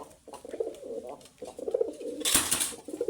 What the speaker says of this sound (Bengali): আর এই সাইডে এক জোড়া লক্ষা কবুতর আছে।